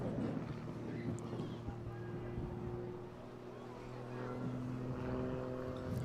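Aerobatic propeller aircraft performing at the Eastbourne airshow, a steady droning engine tone held throughout with slight pitch shifts, heard from a distance over wind rumble.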